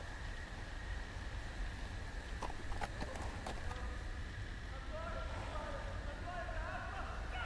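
Horse hooves in a Game of Thrones video game clip-clop faintly under a steady hiss of ambient game noise, with a few sharp clicks and some background talk.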